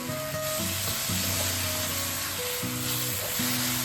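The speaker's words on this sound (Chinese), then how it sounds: "炒至土豆微微变软" Pork belly, Chinese chives and potatoes stir-frying in a wok, a continuous close hiss and sizzle that sits under steady background music with sustained tones.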